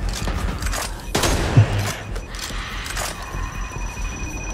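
Light machine gun fire in the zombie shooter Back 4 Blood, sharp bursts of automatic shots amid chaotic game noise, with a louder thump midway.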